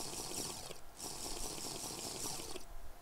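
In the TerrafirmaCraft game, a ceramic jug scoops up water with a soft, continuous watery swish and gurgle that pauses briefly, then resumes, quiet and even throughout.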